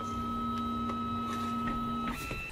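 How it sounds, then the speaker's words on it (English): Monoprice MP Cadet 3D printer running, with steady whining stepper-motor tones and sharp ticks every half second or so as the head moves, close and continuous with no talking. "So our printer is going now"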